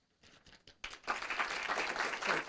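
Applause at a city council meeting, starting with a few scattered claps before a full round of audience clapping breaks out and continues steadily to the end.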